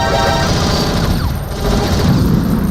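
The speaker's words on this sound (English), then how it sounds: "Oh, they blow up the missile." A missile blows up in the video game Metal Gear Solid: The Twin Snakes, a loud, dense burst of explosive, gunfire-like crashing that roars without a break for nearly three seconds.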